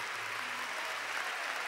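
Steady, dense audience applause at a Sava Centar concert for the ensemble and the orchestra, a continuous even wash of clapping throughout.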